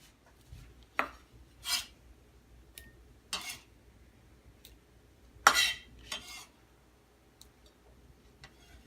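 Cooked liver being moved into a bowl with utensils: a handful of short scraping clinks and taps spaced irregularly, close and moderately loud over a quiet kitchen background, with no talking.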